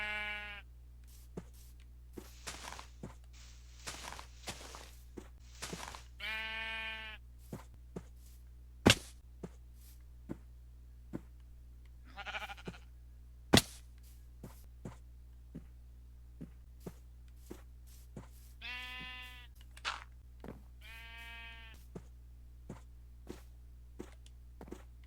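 Minecraft sheep bleat in short game-sound bursts, several separate bleats spread out over time, with scattered blocky footsteps and clicks between them, and no talking.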